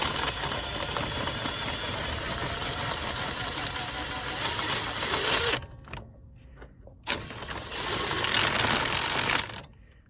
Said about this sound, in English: I do have an impact, but I did not bring a deep well socket.